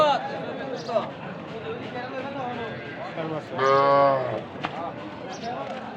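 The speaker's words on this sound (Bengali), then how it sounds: "এখানে দেশের জাতীয় একটা বাছুর আছে" A local-breed calf at a Bangladeshi cattle market in Habiganj gives one loud, drawn-out moo midway, set among nearby talking and market chatter.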